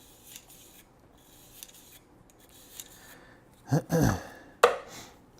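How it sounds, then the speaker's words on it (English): Cleaning brush scrubbing back and forth through a semi-automatic handgun barrel, a few rough close rasping strokes near the end after quiet rustling. "I usually just pass a couple times with the brush just to loosen some things up"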